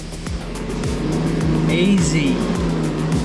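Volkswagen Amarok automatic held in third gear in manual mode, climbing a steep beach track: a steady, loud engine drone with rising pitch and tyre noise, close by, with people talking over it.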